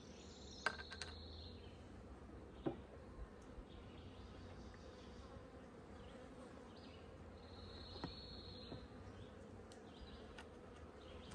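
Honey bees buzz around a hive in a faint, steady hum that holds throughout, with a few soft clicks and knocks and no voices.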